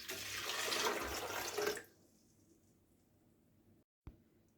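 Half a litre of water is poured over hackberry fruit in a food processor, a bright splashing rush for just under two seconds that stops abruptly, followed by near quiet and a brief knock.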